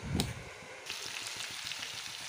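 Raw green plantain frying in oil in a pan gives a steady, close sizzle and crackle that swells after a brief stir, with no talking.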